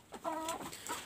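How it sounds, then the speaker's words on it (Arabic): Three-month-old chickens hatched under a brooding hen cluck in short, close, soft calls, with a few overlapping bursts within about a second. "زي ما انتم شايفين الفراخ اللي قدامنا ديت عندها 3 شهور"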